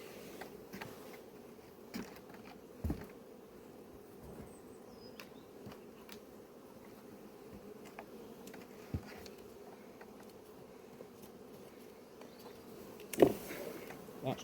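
Honeybees hum at an apiary with a low, faint, continuous drone, a few soft knocks and a louder thump near the end, no talk.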